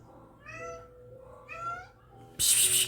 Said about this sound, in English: My cat, Cinnamon